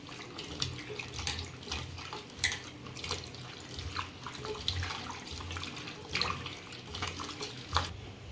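Mango seed kernels get washed by hand in water, making irregular splashes, sloshes and drips up close, with no voices.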